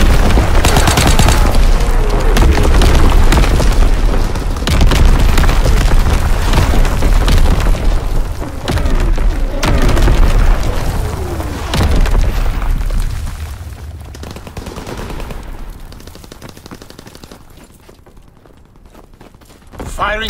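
A Call of Duty WW2 artillery barrage pounds the ground in a long run of loud, rumbling explosions that mix with gunfire, then fade toward the end, with voices calling out over the shelling.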